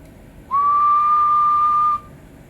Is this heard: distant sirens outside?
no